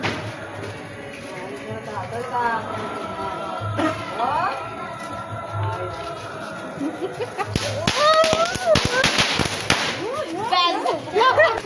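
Firecrackers burst outdoors during Diwali and Kali Puja celebrations, starting with scattered pops and turning into a rapid cluster of sharp cracks and bangs toward the end, with people talking throughout.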